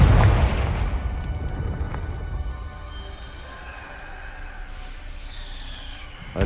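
A deep booming fire-spell blast from the Hogwarts Legacy video game erupts loudly at the start, then a rumbling tail fades under a soft hiss.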